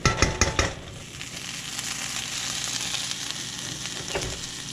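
Chopped onions and rice frying together in a pan for fried rice, a steady loud sizzle with a few clattering stirs at the start.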